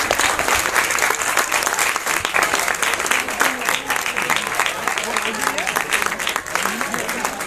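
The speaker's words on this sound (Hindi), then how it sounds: "जोरदार तालियों से उनका स्वागत करते रहिए" A crowd at a science festival in Uttarakhand claps loudly to welcome a chief guest, continuous dense applause with some voices mixed in throughout.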